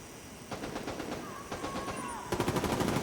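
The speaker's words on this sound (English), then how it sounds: "So my portable sniper turret's just doing the business right now" A portable sniper turret in The Division 2 firing a steady series of sharp, evenly spaced shots, quieter at first and then louder and closer in a quick rhythmic run.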